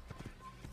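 A horse's hooves clip-clop in a few quick, soft steps in the Assassin's Creed video game, faint and brief over a low background rumble.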